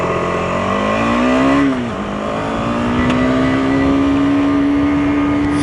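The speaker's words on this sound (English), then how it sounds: "Starting up on the KTM 250 Adventure, smaller brother to the 390 Adventure." A KTM 250 Adventure single-cylinder motorcycle engine runs up, dips briefly, then settles into a steady, even drone. It sounds close and moderately loud, with no talking.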